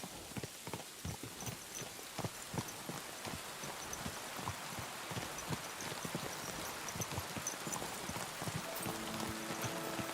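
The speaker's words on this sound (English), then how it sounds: "Of course it's raining." Steady rain in the video game Kingdom Come patters on a surface, dense and continuous, with faint clopping-like taps mixed in and a soft tonal hum near the end.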